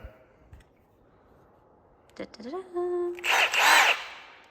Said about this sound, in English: the thing I can't live without is my Milwaukee nut gun